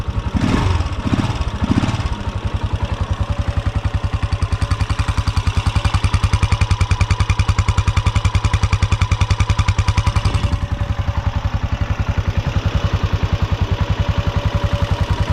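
A Spark R-14 motorcycle engine idles close by with a steady, rapid putter, briefly revved at the start, running loud and unbroken throughout.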